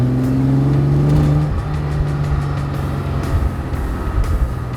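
A Mercedes-Benz 300 SL Roadster engine drones while driving, its tone holding steady before easing off after a gear change, loud and close with road noise and no talking.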